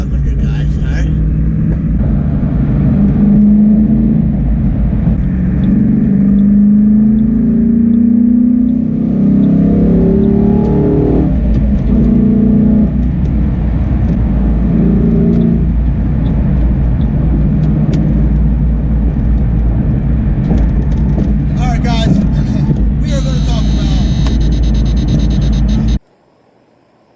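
A 2020 Ford Mustang Shelby GT500 drones along the highway, its engine rising in pitch as it accelerates, under heavy wind noise and some muffled talk, before the sound cuts off abruptly.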